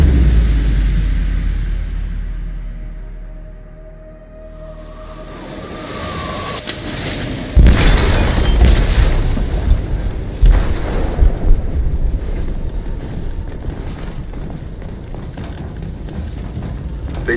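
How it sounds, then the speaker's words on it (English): A deep boom and rumbling blast tear through a ship's hold in Detroit: Become Human, rising out of low ocean-like rumble into a loud, sustained roar with crackling debris over the following seconds. "They detonated an explosive in the hold."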